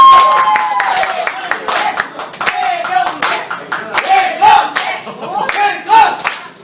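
A group claps and cheers in bursts over several seconds, with irregular loud peaks of applause mixed with shouting voices.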